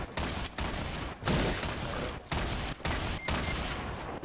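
Video game gunfire crackles in dense, continuous volleys broken by brief gaps, loud and close throughout.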